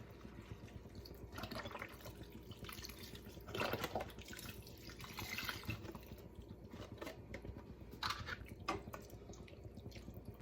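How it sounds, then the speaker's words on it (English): Beef broth poured from a carton into a pot, a soft continuous liquid trickle with a few splashier moments, faint and close, no voices. "4 cups of beef broth. I'm just using a carton."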